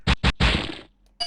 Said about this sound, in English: This is the sound of knees breaking.